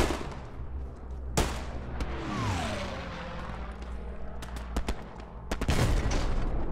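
Gunfire from Hell Let Loose, a World War II shooter: sharp rifle cracks and distant bursts over a low rumble, with a round whizzing past and later shots clustering near the end.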